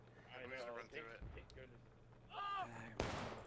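Gunfire in a Forest Stream public match of a video game, a sharp loud report near the end after a stretch of commentators talking over faint battle noise.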